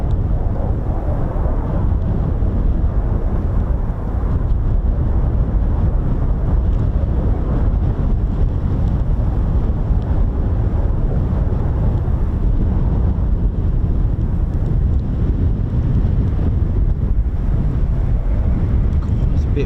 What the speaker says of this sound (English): It's a bit windy now.